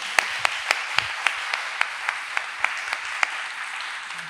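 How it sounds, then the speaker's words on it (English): An audience at a panel event claps, a thin scattered applause with a few sharp individual claps standing out at a steady pace, moderately distant. "Did I hear clap?"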